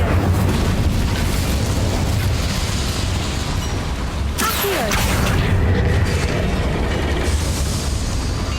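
Incendio fire spell cast in Hogwarts Legacy: a sudden whooshing burst midway through, rising out of a steady bed of game ambience and fading into a lingering crackle.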